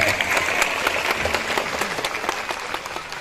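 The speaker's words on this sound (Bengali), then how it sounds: "ওদের সবার জন্য জোরে একটা হাততালি দিয়ে দিলেন" An audience claps loudly in a hall, a dense sustained round of applause with sharp overlapping hand claps and no break.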